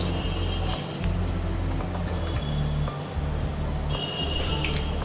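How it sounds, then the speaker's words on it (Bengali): Dried red chillies dropped into hot oil in a pan for a raw jackfruit dish, producing a steady, dense crackling sizzle that continues throughout at close range. "দিলাম শুকনো লঙ্কা চিড়ে,"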